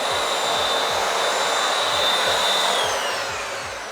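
A vacuum cleaner running on a portable charging station at reduced power hums steadily and fairly loud, its whine holding a constant pitch before dropping and easing off near the end.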